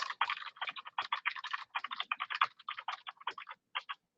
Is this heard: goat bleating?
no